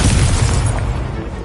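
Incendio fire spell cast in Hogwarts Legacy, a loud, close burst of roaring flame and booming impact that fades slightly over its short length.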